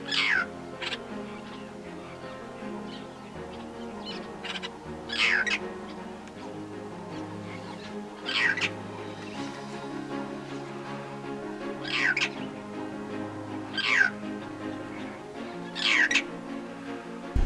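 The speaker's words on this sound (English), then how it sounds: "An impressive bird call sounds across my campsite." Loud, harsh bird calls ring out five or six times at intervals of a few seconds over a steady low hum and faint background chatter.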